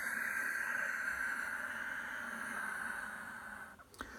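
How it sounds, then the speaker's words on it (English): Ujjayi breathing through the nose makes a soft, steady, raspy hiss like distant surf, drawn out continuously and faint, alone with no talking. "Sign whistling, silky Ujjayi breath, seashore breathing."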